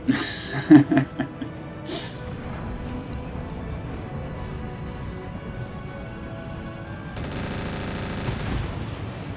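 Mech weapons in a MechWarrior-style video game unleash a burst of sharp shots near the start, then give way to a steady mechanical hum. A later wash of noise swells toward the end.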